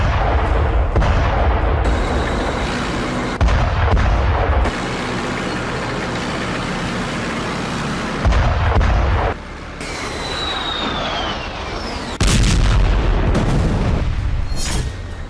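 Tank cannon and artillery fire in the Israel–Hamas war, with loud, heavy booms and sustained rumbling blasts in several long, intense stretches mixed with a roaring, engine-like din.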